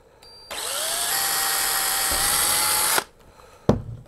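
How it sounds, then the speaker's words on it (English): A power drill whines at high pitch for about two and a half seconds, biting into a metal PC case to drill a small hole, then stops with a clunk afterward. "and drill into them."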